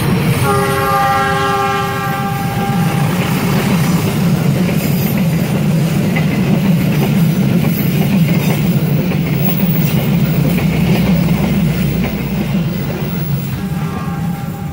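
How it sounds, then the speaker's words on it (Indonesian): The Argo Parahyangan passenger train rumbles past loud and close near Pleret station, with horn blasts at the start and again at the end over continuous wheel and rail noise. "Jadi kita terjebak di sini menikmati kereta Argo Parahyangan lewat."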